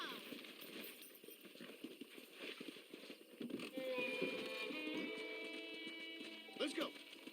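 Horse hooves clip-clop at a steady gait in the Red Dead Redemption video game, the rhythmic footfalls running throughout, with a held tonal layer joining partway.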